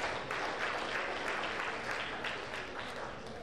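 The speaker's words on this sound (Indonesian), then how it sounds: "kepada kedua penulis kita berikan aplaus yang meriah pada hari ini" A seminar audience at a family law awareness workshop gives the two authors a steady round of clapping, dense and sustained throughout with a faint murmur underneath.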